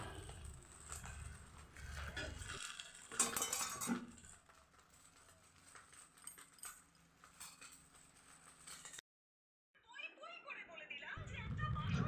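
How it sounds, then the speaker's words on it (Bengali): A spoon stirs rice with vegetables and ghee in a pan, giving scattered utensil scrapes and clinks under a speaking voice, with a brief silent gap before the stirring resumes. "এখানে রাইসটা আমি নেড়ে নিচ্ছি সব কিছু সবজি দিয়ে ঘি দিয়ে নেড়ে নিচ্ছি"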